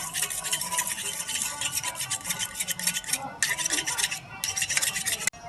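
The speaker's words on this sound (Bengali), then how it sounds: "এবার এই ডিম দুটোকে ভালো করে ফেটিয়ে নিন।" Two eggs with salt and pepper beaten briskly in a bowl, a steady fast rhythmic scraping and clinking of utensil against the bowl, close and continuous with brief pauses.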